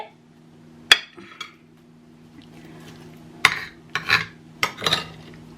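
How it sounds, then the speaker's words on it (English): A metal spoon scrapes melted cheese out of a dish for a cheese and onion pie, making a few sharp clinks and scrapes against the dish with quiet pauses between them and a low hum underneath. "I'm just going to use this spoon to get it out."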